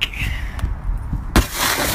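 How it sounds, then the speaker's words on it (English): A car window shatters when struck by thrown pieces of a broken spark plug: a single sharp, loud crack midway, followed by a bright spray of crumbling glass that hisses on to the end, over low background rumble. "if you throw pieces off a spark plug at a car window that it'll shatter"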